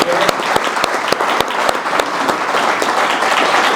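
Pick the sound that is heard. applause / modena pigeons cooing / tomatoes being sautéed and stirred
applause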